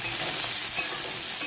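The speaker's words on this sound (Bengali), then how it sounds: "ভালো করে নেড়ে চেড়ে চিংড়ি মাছটাও দিয়ে দিলাম।" Prawns stirred and frying in a pan give a steady close-up sizzle, with light scraping stirs and a couple of small clinks through the short moment.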